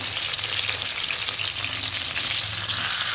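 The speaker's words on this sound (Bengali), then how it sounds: "এবার মাথাগুলোকে সুন্দরভাবে ভেজে নেব।" Katla fish heads rubbed with salt and turmeric fry in hot mustard oil in a kadai, giving a loud, continuous, dense sizzle close up.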